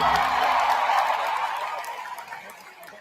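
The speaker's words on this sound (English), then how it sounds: "I would say that was a rather light applause for that" A D23 audience gives light applause at an opening-night presentation. The scattered clapping starts moderately loud and thins out over a few seconds.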